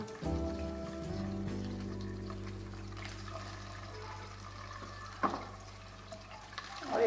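A petroleum jelly mixture is stirred in a bowl, giving soft, continuous scraping and squelching close up, with a few sharper taps of the spoon near the end; no talking.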